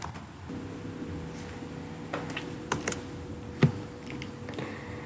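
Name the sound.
typing a command on a computer keyboard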